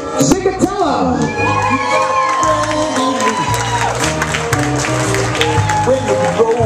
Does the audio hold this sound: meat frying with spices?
no